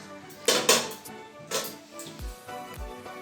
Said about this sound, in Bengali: এবার বিরিয়ানিটা আমি ঢাকা দিয়ে দেবো, একদম চাপা ঢাকা দিয়ে দেবো।